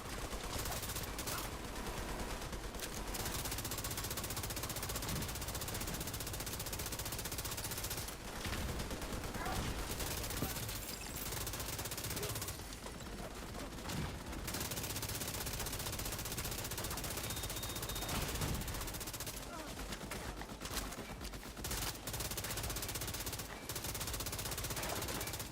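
Weapon fire in the shooter game The Division 2 rattles on in dense, sustained automatic bursts across the whole stretch, loud and close, with short lulls between volleys and a voice talking faintly underneath.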